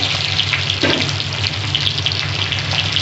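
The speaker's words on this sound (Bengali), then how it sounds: "একটু হলুদ দিলাম আর একটু লবণ দিয়ে দিলাম, দিয়ে আমি একটু ভেজে নিচ্ছি আলুগুলো।" Potatoes frying in oil with salt and turmeric added, a loud, dense, continuous sizzle and crackle close up with a brief stir partway through, no voices.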